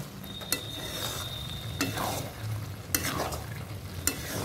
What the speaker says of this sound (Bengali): সামান্য চিনি দিয়ে নেড়ে নেব। এবার নেড়ে নেব।